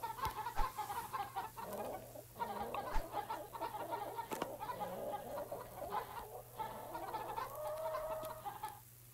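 Chickens cluck in the Egg, Inc. video game, with repeated short fowl calls in overlapping bursts over a steady low hum, moderately loud and with no talking.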